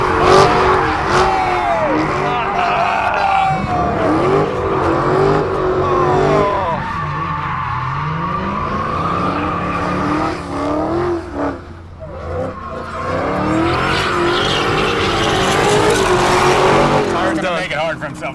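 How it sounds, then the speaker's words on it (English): A Dodge Hellcat and a Dodge Viper thrashing their tires: long, loud tire squeals and engine roar rise and fall continuously, with one short dip, while people talk over the noise. "These cars are one of the greatest ways to destroy tires."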